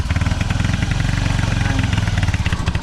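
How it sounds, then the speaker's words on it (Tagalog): A motorcycle-powered tricycle engine runs loud and close with a steady, rapid throbbing beat throughout, with no voices. "Galing na mag-drive ang anak ko ng tricycle"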